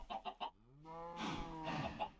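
Minecraft chicken cries in a Java 1.18 game: a few short clucks, then a longer, louder honking squawk with rich harmonics and a second call close behind, all near and clear with no talk.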